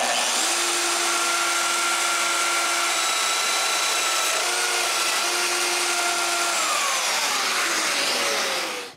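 A power drill bores holes in wood for mortise-style knock-down joinery, giving a loud, steady, close whirring grind that holds for several seconds before cutting off abruptly.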